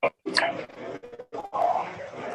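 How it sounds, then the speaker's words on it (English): Dogs bark in the background of a city conservation commission meeting call, coming through a participant's open microphone as a few short, muffled barks and yips with brief gaps between them. "mute his mic so we don't hear the dogs barking"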